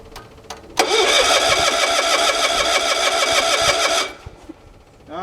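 A sawmill engine, choked and started with a key after sitting unused for a while, cranks briefly, then catches and runs loudly and steadily for about three seconds before cutting off.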